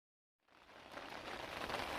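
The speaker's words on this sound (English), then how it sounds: "As you can probably hear, the rain's still coming down all night." Steady broadband hiss of overnight rain at a lake sets in after a brief silence and swells slightly, a continuous wash with no voices.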